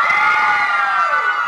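Studio audience on a TV morning show yelling together on cue in a shouting contest, one loud, sustained burst of crowd cheering and screaming, close and unbroken.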